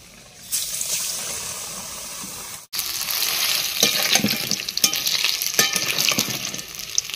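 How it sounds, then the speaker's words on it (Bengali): Battered cauliflower pakoras frying in hot oil give a loud, steady crackling sizzle with bubbling pops. Brief thuds and a sharp break interrupt it as pieces drop in. "এরকম ব্যাটারটার মধ্যে এক একটা করে ফুলকপির পিস চুবিয়ে নেব আর দিয়ে দেবো তেলে"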